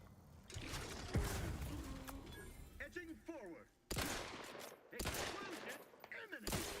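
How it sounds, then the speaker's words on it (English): A grenade blast in a multiplayer shooter video game bursts loud and close amid bursts of gunfire, with players talking over the noise. "Grenade."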